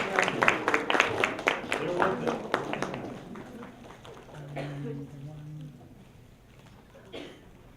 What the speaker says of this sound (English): Keep clapping while we put up the music here.